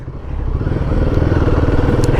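A Royal Enfield Guerrilla 450 motorcycle engine runs steadily at low revs, a close, loud, even throb with a fast rhythmic pulse and no talking over it.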